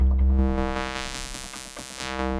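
A synthesizer played through a band pass filter gives a steady, buzzy, harmonic-rich drone with a slowly shifting pulsing texture, loud and alone without speech.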